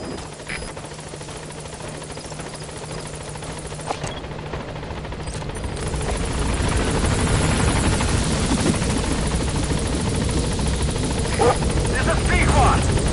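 Pequod, a military transport helicopter from Metal Gear Solid V, closes in on a landing zone, its rotor roar swelling steadily louder over a continuous rumble, with gunfire and radio voices mixed in.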